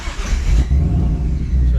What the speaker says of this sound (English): Next step, try to start the car.